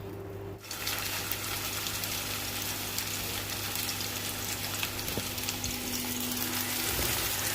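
Beef chapli kababs frying in a little oil in a frying pan, giving a steady, dense sizzle with a low hum and occasional faint knocks.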